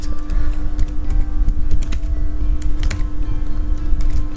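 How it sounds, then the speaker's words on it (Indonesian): Rapid typing on a computer keyboard while entering Linux command-line commands, a close, busy patter of clicky keystrokes at an uneven rhythm against a faint steady hum, with no talking. "Coba kita ketik dulu, ketik apa aja, misalnya cd etc."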